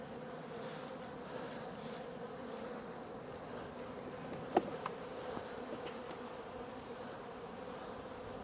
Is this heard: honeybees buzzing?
yes